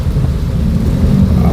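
Steady heavy rain on a road during a holiday homecoming trip among many motorbikes, a dense continuous low rumbling roar with constant hiss, loud and unbroken throughout with no talk.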